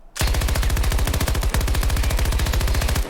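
Uncontrolled full-auto gunfire in Battlefield, fired straight ahead against a fence during a recoil test: a loud, rapid, steady burst of shots with a brief stutter midway, running about three seconds alone.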